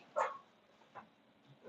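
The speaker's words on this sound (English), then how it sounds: "Do you want to pet my dog?" A pet dog gives one sharp, fairly close bark, followed by a couple of softer yips and whimpers in a quiet room.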